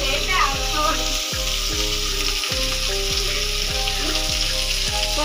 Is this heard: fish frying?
yes